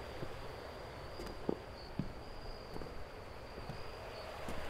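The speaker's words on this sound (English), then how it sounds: "That's a lot of fucking bees or flies" Steady insect-like buzzing and chirring drones through a dark night scene in the horror video game The Lights Went Out 616, quiet and continuous, with a few faint soft knocks or steps scattered over it.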